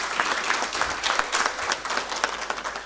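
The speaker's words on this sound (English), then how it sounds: "A round of applause, please." A room full of people applauds the new executive committee of the Rural and Urban Private Hospital Association of Kenya at its annual convention, with individual claps standing out in an uneven, moderately loud rhythm.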